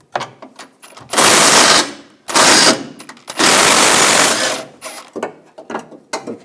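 Socket wrench with a 15mm socket removing bumper bracket bolts on a 2014-2018 GMC Sierra; three loud bursts of rapid ratcheting or buzzing, close up, separated by quieter clicks and handling noises, no talking.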